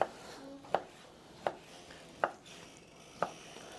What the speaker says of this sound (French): On va couper des tendres lanières, comme ça.